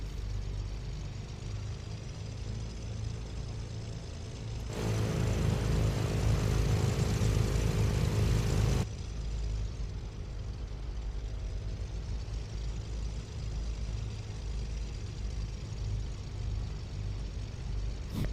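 Baron 58 twin-engine airplane in a flight simulator game taxiing, a steady low engine drone with a louder, brighter stretch in the middle before settling back to an even rumble.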